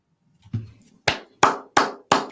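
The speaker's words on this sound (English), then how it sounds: "Everybody give him an applause" A handful of sharp, separate claps ring out at a steady pace on a talk show, sparse and fairly close, after a brief soft murmur.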